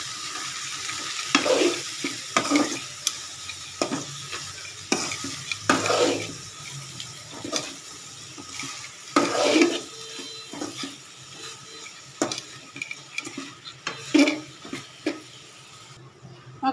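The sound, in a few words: sautéing shrimp with turmeric, chili powder and salt in a pan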